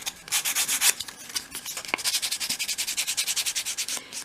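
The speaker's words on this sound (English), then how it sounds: "When you finish sanding" Rhythmic hand sanding on painted wood parts of a 1/12 scale model shop, quick back-and-forth scraping strokes in a steady run, close and fairly loud with no voices.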